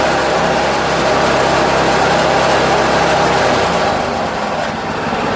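A small engine with its governor still fitted roars at high speed, a loud, steady, dense drone held level at its limit for several seconds without pause.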